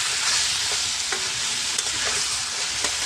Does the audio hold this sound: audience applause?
no